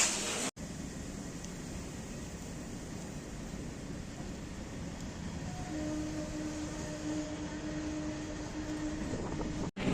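A Memari–Howrah galloping local train rumbles along steadily with a constant rattling roar and a faint high squeal of wheels near the end, with no talking.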